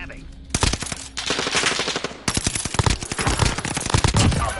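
Rapid bursts of automatic gunfire in Call of Duty: Warzone, loud and close, with dense repeated shots crackling over a steady game backdrop and brief pauses between volleys; a voice speaks faintly underneath.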